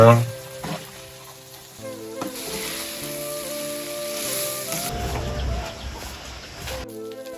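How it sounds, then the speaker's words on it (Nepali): Minced keema sizzles in a pan as it fries until brown for Nepali-style keema noodles, a steady close crackle that swells louder and denser in the second half. "अहिले मजाले ब्राउन कलर हुने गरी फ्राई गर्नुपर्छ।"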